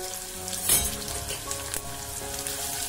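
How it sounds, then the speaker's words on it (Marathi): Chopped onion hits hot oil already tempered with cumin and mustard seeds, giving a steady close sizzle and crackle with a brief louder hiss and a couple of pops, no voices. "कांदो ऍड करायचो फोडणीत."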